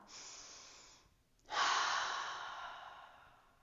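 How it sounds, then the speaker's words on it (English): Forceful breath through the mouth during a hamstring, hip and toe stretching routine: a long airy exhale fades out, then after a short pause a louder, fuller breath surges in and slowly tapers, close to the mic with no talk. "exhale with a big ha"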